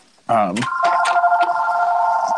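A telephone rings steadily and loudly, its electronic tone holding after a short spoken word at the start.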